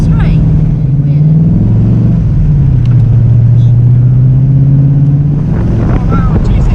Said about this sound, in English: Sounds like a really pathetic supercharger.